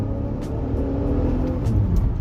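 A rear-wheel drive car's engine drones with a low, steady rumble as it picks up speed, the hum rising slightly while the car accelerates.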